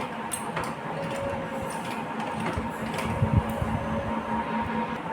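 A domestic sewing machine runs in a low, continuous mechanical whir while stitching a small cloth outfit for a Laddu Gopal deity figure, steady and moderately close with light clatter and no speech.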